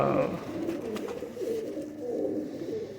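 Golden kasoori pigeons coo in a soft, continuous rolling murmur close by, with several birds overlapping in a low, steady burble.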